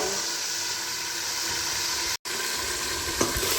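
Vegetables for shukto fry under a lid in a pan, giving a steady, close sizzling hiss that continues almost without a break, apart from a brief cut.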